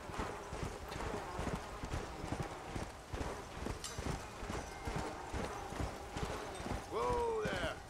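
Hooves clip-clop in a quick, steady rhythm as a horse moves in the video game Red Dead Redemption: Undead Nightmare, with a short whinny rising near the end.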